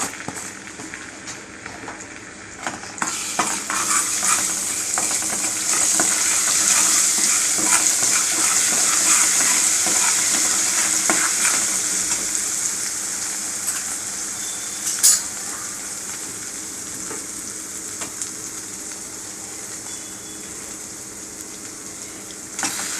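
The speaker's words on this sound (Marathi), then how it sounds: "आता आलं लसणाची पेस्ट अर्धा चमचा," Half a spoon of ginger-garlic paste fries loudly in a pan for a Marathi chawali bhaji, a dense continuous sizzle with occasional scraping of a stirring spoon, close and steady throughout.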